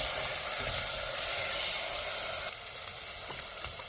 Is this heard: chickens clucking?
no